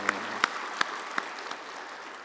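A church congregation claps in unison for the choir, about five sharp, separate claps spaced in a slowing rhythm, echoing in the sanctuary.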